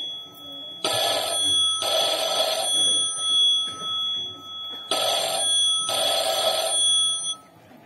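An old-style telephone bell rings loudly in two pairs of bursts, each ring about a second long with brief pauses between.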